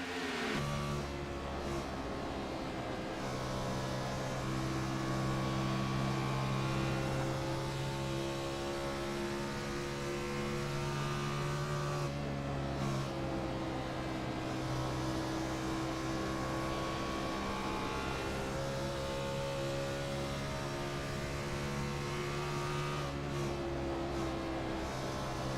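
A NASCAR Xfinity race car engine at Dover in a racing video game drones continuously as the throttle is worked, pitch rising and falling steadily with no pauses for the whole stretch.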